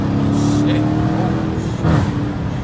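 Dodge Challenger R/T engine droning loudly from inside the car, a steady low rumble that swells briefly near the end, with voices faintly over it.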